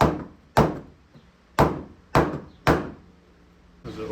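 Hammer blows striking a 2x4 held against a Saab 900 Turbo body panel from behind, five sharp, loud metallic-wooden whacks at uneven intervals, with a voice starting at the end.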